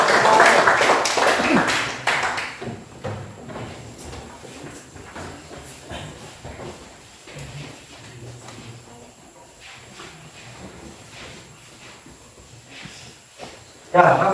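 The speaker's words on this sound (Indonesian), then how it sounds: "silakan berikan tepuk tangan yang meriah" A classroom audience claps for a student group presenting, a burst of applause at the start that quickly fades into scattered claps and low murmuring voices.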